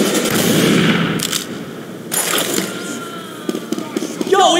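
Rapid bursts of gunfire from the video game Team Fortress 2 crackle in short volleys among other game noises, with voice lines heard over the action.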